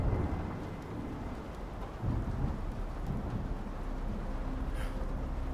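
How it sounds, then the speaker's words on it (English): A thunderstorm in the video game In Sound Mind: steady heavy rain under a deep, rolling thunder rumble, continuous and fairly loud with no voices. "Storm's coming, kicking back up."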